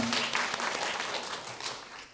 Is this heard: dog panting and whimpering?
no